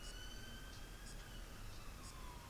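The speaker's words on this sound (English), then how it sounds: "There's an ambulance." A faint emergency siren wails in the distance outside, its thin tones drifting steadily under a constant background hiss with no talking.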